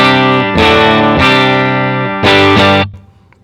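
Clean electric guitar chords through a pedalboard into a Divided by 13 amp, miked with a Royer 121, ringing in sustained strums with a few chord changes, loud and alone, then fading into a quiet tail.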